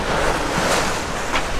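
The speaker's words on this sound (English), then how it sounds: "out in the middle of the ocean" Ocean waves and wind on the open Pacific, heard from a sailboat during an ocean crossing: a continuous broad wash of surf and gusting air, loud and close, with occasional swells of louder water and no voices.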